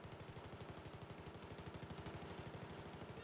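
Rapid, sustained automatic gunfire in the video game Battlefield 4 hammers out in a fast, even rhythm of dense shots for a few seconds, loud and continuous, with no talking.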